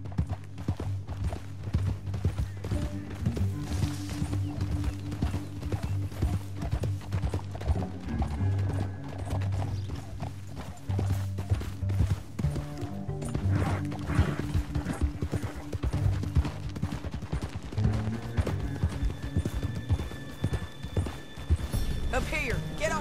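Horses in the video game Red Dead Redemption 2 moving at a fast, steady clip-clop of hooves, loud and close, under a layer of game music and occasional voices.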